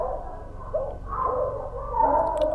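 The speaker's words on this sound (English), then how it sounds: "And I hear doggies." Dogs bark and yip in the video game A Wolf In Autumn, with a few short, muffled calls rising over a low ambient hum and no talk.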